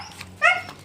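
A pregnant dog gives a single short, high whimpering yip, close by, set against a low background hum.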